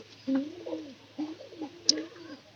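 Caged pigeons cooing at close range, a few soft low throaty coos in short phrases with a brief faint click among them.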